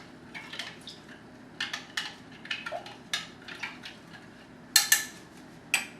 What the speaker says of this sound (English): Stir it up and mix it.